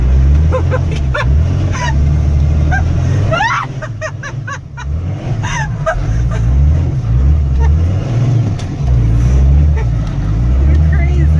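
A Cummins-powered Ford Excursion drifts through snow, its loud, close engine drone rising and falling while passengers talk and exclaim over it.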